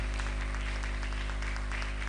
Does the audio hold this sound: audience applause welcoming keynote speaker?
yes